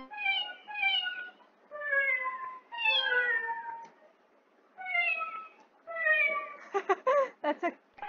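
AI-generated cat meows made with NSynth come in a series of about eight distinct, clear meows in an uneven rhythm, ending in a quick burst of choppy, stuttering synthetic tones.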